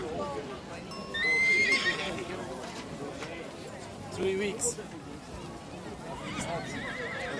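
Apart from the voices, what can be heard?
horse neighing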